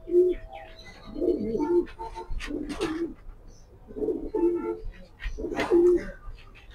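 Young Kitel line pigeons hatched in 2022 coo in repeated soft, throaty bursts, with several close calls rising and falling across the stretch and brief gaps between phrases.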